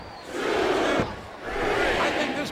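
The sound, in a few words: wrestling crowd shouting in Smackdown vs RAW 2007 video game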